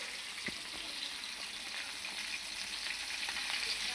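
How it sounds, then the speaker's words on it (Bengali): Chicken frying in a pan gives a loud, steady, unbroken sizzle, heard alone and close up for the whole stretch. "মুরগিটা আমি ভাজতে দিয়ে দিছি।"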